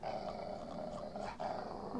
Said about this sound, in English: What about this dog that's like biting the door?